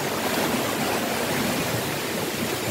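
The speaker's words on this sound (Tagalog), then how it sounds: "yan yung ilog" A wide river rushes by below, making a dense, steady roar of flowing water that fills the whole moment without pause.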